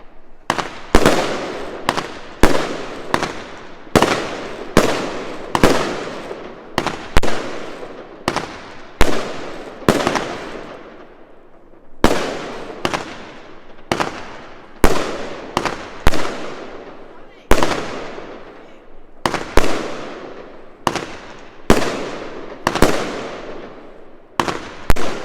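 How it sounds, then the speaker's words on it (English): Charlton Fireworks Pyrolithic 100-shot barrage fires outdoors in a rapid run of loud cracking booms, each launch ringing out briefly, with a short lull midway before the volley resumes to the end. "a new one from Charlton Fireworks. 100 shots, Pyrolithic, new one"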